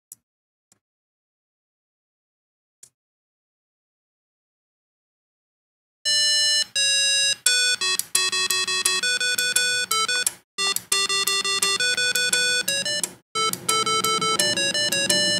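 A beeping electronic melody of square-ish tones plays from a small Arduino-driven speaker after several seconds of near silence, with brief relay clicks and short gaps.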